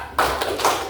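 Children in a classroom clapping game clap twice in unison, two sharp, close claps about half a second apart, with a quiet room around them.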